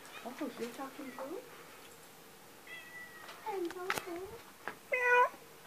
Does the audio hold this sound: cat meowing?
yes